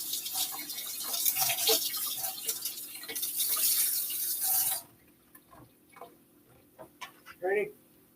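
A kitchen tap runs while a dish is washed during breakfast burrito prep. Close, hissing water flows for about five seconds and then shuts off, followed by small clinks and a brief voice.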